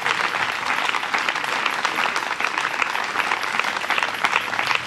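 A church congregation at a gathering in Lomé breaks into sustained applause and cheering, with dense, even clapping that fills the space steadily from start to finish with no pause.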